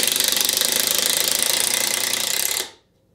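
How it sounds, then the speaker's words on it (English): A Kimo 20V cordless impact driver driving a deck screw, a loud, close, rapid hammering rattle sustained for over two seconds before stopping abruptly into silence. "It did drive in the deck screw a heck of a lot faster than the rigid."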